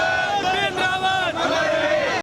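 A large crowd outside a cremation ground chants slogans together, loud and close, in rising and falling voices that carry without a break for a couple of seconds before cutting off.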